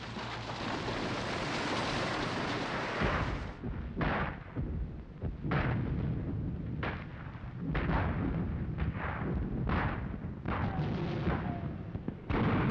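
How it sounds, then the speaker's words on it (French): Wehrmacht artillery bombards Warsaw in 1939 in archival war footage: a continuous roar of heavy gunfire gives way to a rapid series of sharp, booming blasts over a dense rumbling background. "Ses canons soumirent la ville à un bombardement d'une incroyable violence."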